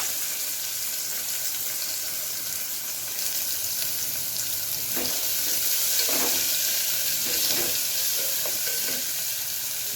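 Chopped onions sizzle and fry steadily in hot oil for idli sambar, a continuous crackling hiss with occasional louder bursts as they are stirred.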